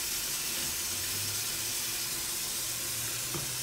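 Water runs steadily from a tap into a metal sink as liquid detergent is added for washing a trumpet, a continuous close rushing hiss with a faint low rumble beneath.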